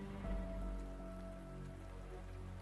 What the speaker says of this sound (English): Raindrops plummet from the sky, faster, heavier.